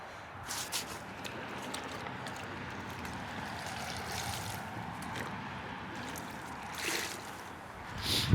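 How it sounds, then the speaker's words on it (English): A really dirty sponge is rinsed in water during a rinseless car wash test, a soft continuous sloshing and trickling close by with a few louder splashes, no talk. "All right, so we have a really dirty sponge. Let me rinse."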